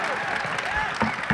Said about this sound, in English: Let's give a big round of applause for the Gold-Blooded Warriors for last night's performance